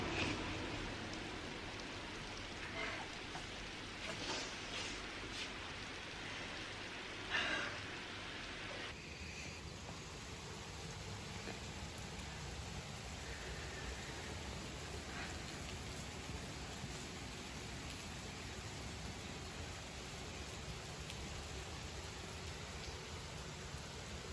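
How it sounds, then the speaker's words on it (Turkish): Steady rain falling and pattering on surfaces, an even hiss throughout with a few louder drops early on, no voices. "Ve yağmur yağıyor."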